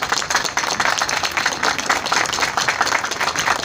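A gathering of traders applauds Dr. Ayaz, a steady, dense wash of many hands clapping close by with no break for several seconds.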